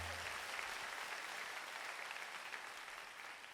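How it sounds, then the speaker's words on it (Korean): A church youth worship congregation applauds steadily in thanks, a continuous wash of many hands heard at a moderate distance, with no one speaking over it. "감사와 영광의 박수 올려드립시다"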